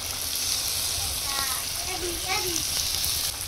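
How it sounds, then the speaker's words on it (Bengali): Garlic, ginger and cumin paste sizzling with browned onions in a pan, a steady frying hiss with a few brief scraping stirs and a faint voice in the background. "দিয়ে দেবো রসুন বাটা, আদা বাটা আর জিরা বাটা।"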